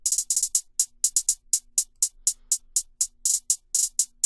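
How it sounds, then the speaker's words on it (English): Panned hi-hat pattern from a trap beat in FL Studio, rapid crisp ticking hits with quick rolls and irregular rhythm, played alone and bright. "So we got our pan hi-hats."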